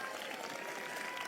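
A church congregation at a prayer meeting claps their hands together, a dense, even patter of many hands, fairly soft and continuous through the short moment with no speech over it.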